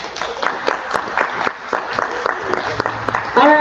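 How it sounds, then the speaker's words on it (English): An audience at the Bordertown Paracon paranormal conference claps for a panel: a short round of light, uneven hand claps, close and fairly loud, fading slightly near the end. "So let's give them a hand."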